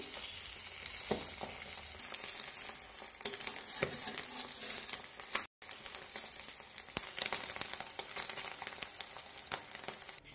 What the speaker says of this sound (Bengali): শুধু নুন দিয়ে এইভাবে ফেটিয়ে নিয়ে ভেজে নেব খুব ভালোভাবে ডিমটাকে ভেজে নিতে হবে